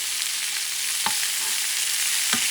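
Garlic and sofrito frying in a pan give off a steady, close hiss of sizzling oil, with a couple of brief scraping stir strokes and no talking.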